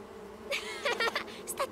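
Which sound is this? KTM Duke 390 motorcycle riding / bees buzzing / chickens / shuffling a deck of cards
bees buzzing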